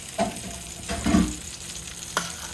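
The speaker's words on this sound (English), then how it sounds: "Then we're gonna stir that in well" Spoon stirring cream into sautéed vegetables in a pan, a few scraping strokes with a soft simmering sizzle underneath, close and moderate in level.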